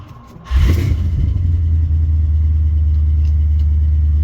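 International Travelette truck engine pulling away: after a brief quiet moment, a loud, deep rumble kicks in suddenly and holds steady and close, with no talking.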